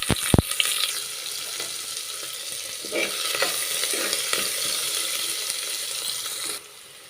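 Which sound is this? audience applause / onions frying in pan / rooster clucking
onions frying in pan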